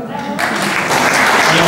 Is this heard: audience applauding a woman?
yes